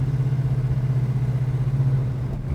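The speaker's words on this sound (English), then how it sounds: "It'll just idle right on down." A 1968 Dodge Charger with a big-block Mopar V8 idles close by, a steady low burbling throb with an even pulsing rhythm and no talk.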